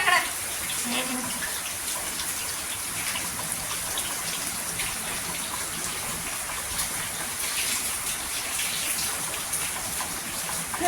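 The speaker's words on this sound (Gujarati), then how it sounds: "વરસાદ આવે" Steady rain falling, a continuous hiss of drops on surfaces, with no voices present.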